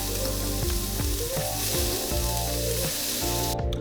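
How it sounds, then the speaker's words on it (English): Steak and rice sizzling loudly in a hot skillet, a dense steady crackle and hiss of frying throughout, with occasional stirring scrapes. "We're gonna wait for the skillet to heat up, put the steak and rice on there."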